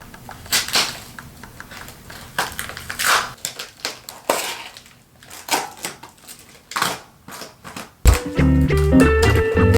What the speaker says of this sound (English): the removal process for the brick wall really wasn't too bad. It was kind of loud